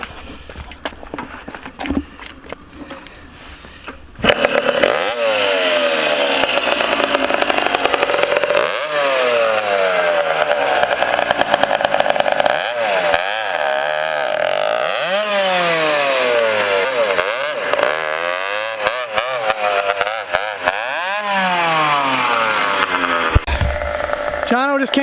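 A two-stroke go-kart engine on its first test drive, a loud buzzing whine that rises and falls repeatedly as it revs and passes, with people talking.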